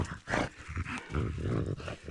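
Dogs growl and grumble in a forest while mushrooms are gathered, a close, rough, continuous vocal rumble in uneven bursts.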